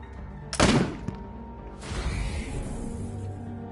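An explosive bolt detonates in the game Wasteland 3, a sharp loud blast followed by a softer burst of gunfire and rumbling debris, with no talking.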